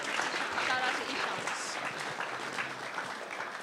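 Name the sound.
applause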